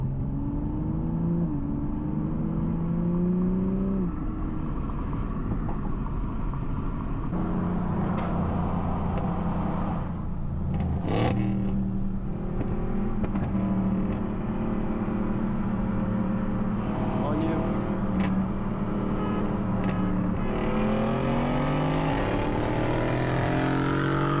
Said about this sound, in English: Oh, there's so much traffic.